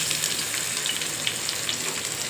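Curry leaves sizzling in a spoonful of hot oil with cumin and mustard seeds on a flat pan, a steady, dense crackling hiss with faint pops throughout, close and alone.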